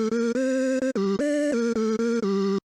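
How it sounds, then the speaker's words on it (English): Dry synth lead with every effect bypassed, playing a short stepped melody of sustained buzzy notes rich in harmonics, each note clearly separated, loud and alone with no voices. "if we turn off all the effects first of all, it sounds like this"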